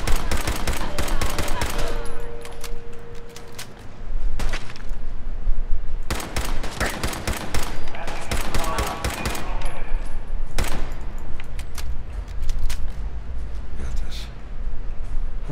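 Gunfire in Fallout 4 comes in dense, loud bursts of rapid shots separated by short pauses, with a voice talking intermittently beneath the shooting.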